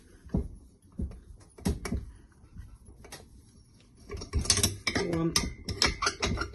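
Screws are being loosened and removed from a Stihl TS420 petrol cut-off saw, giving close, irregular metallic clicks and ratcheting taps that come in scattered bursts and grow busier toward the end.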